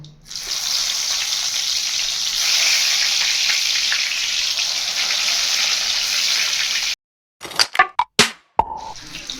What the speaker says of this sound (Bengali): এবার আমি পটলগুলোকে লাল লাল করে ভেজে নেব।